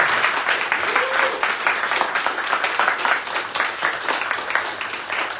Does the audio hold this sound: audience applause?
yes